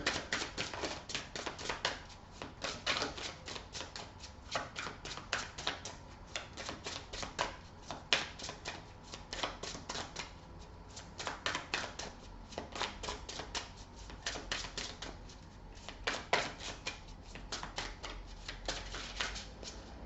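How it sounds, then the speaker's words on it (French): Tarot cards are dealt and laid out on a table with a dense run of quick papery flicks and soft slaps, close and fairly quiet, coming in bursts with brief pauses over about twenty seconds. "Je vais disposer les cartes."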